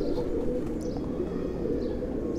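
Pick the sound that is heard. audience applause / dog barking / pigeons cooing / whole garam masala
pigeons cooing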